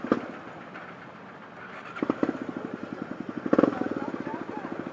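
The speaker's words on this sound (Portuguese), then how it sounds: "Moto tá morrendo pra caramba, a gasolina velha, viu?" A motorcycle engine running on old gasoline idles unevenly, sputtering in a rough rapid pulse that falters and picks up, close by, with someone talking over it.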